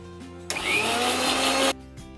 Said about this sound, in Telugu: ఇది గ్రైండ్ చేసుకోవాలండి